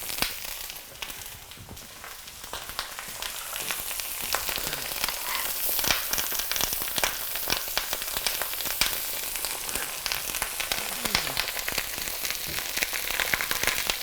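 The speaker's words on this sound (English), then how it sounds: "flat side down into the pan. You want to hear that noise." Cabbage placed flat side down in a hot pan with a knob of butter sizzles and crackles loudly and continuously, close up, with dense popping spatter throughout and no voices.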